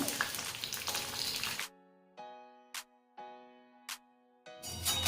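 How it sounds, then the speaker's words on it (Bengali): Okra frying in mustard oil sizzles loudly for the first moments and again at the end, with a stretch of ringing tonal sound and short sharp hits in between. "গ্যাসের ফ্লেম মিডিয়াম করে ভেন্ডিগুলোকে হালকা ভেজে নেব"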